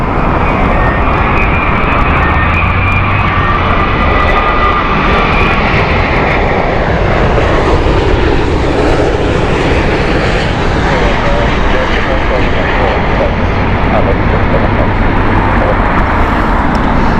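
Boeing 787 Dreamliner jet at Heathrow Airport, a steady loud roar of engine noise filling the whole stretch, with voices talking faintly underneath.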